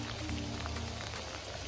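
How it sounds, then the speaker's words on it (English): Steady patter of hail or heavy icy rain striking surfaces nearby, a dense continuous rattle with no voices. "Okay, it's actually hailing."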